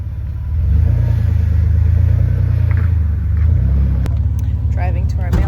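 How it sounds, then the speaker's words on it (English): A car drives along a forest road to a mailbox, its engine droning in a steady low rumble with a brief swell of acceleration. People talk over it near the end. "Driving to our mailbox, further down than the trash cans. On the road, back to our house."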